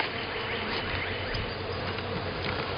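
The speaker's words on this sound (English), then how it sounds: "It's got some bees in it," A swarm of honey bees packed inside a box drones continuously, a dense, even buzzing heard up close with no pauses.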